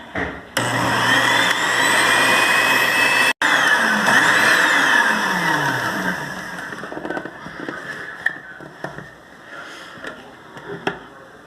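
An electric blender beating cake batter with sugar whirs loudly and steadily for several seconds with a high motor whine, then cuts briefly, restarts and winds down into quieter clattering and scattered knocks.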